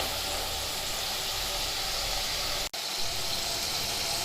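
Potatoes deep-frying in hot oil over a high flame, a steady broadband sizzle and hiss that runs without pause, broken only by one sharp brief click near the end.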